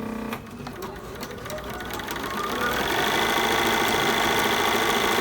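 A Bernina B540 sewing machine runs at a steady, close, loud whir that picks up speed and grows louder partway through, with no talking over it.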